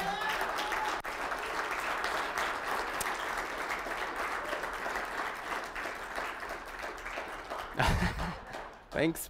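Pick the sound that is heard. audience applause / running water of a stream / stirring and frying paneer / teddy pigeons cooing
audience applause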